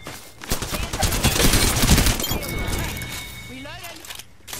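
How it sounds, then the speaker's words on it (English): Rapid bursts of gunfire in Apex Legends build into a loud fusillade, then give way to metallic clinks and reload sounds as a voice talks over the action. "I shot him a couple times"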